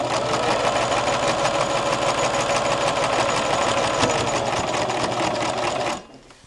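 A sewing machine runs steadily at speed while stitching a patchwork fabric placemat, a loud continuous mechanical whir with rapid needle rhythm that stops abruptly near the end, no talking.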